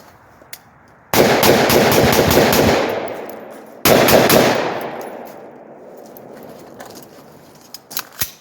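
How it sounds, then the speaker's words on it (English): Two loud rifle shots in the dark, a .223 fitted with a Blast Forward linear comp muzzle brake, each sharp crack followed by a long rolling echo that fades over several seconds, with a few faint clicks afterward. "let's fire off some shots, and let's see what you guys can see with this linear comp"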